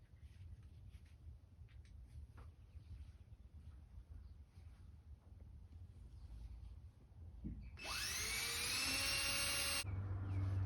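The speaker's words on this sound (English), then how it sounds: "Let's put some screws in this." A power driver sinking screws into ceiling joists during framing: a quiet, roomy background then a loud, close, high-pitched whirring run of the driver lasting about two seconds near the end.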